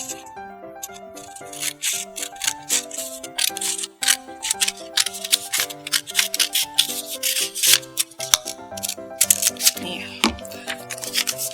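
Scissors cut paper for a children's craft activity, with crisp snipping clicks and rustles that come in quick bursts over cheerful background music.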